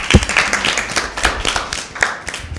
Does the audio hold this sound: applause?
yes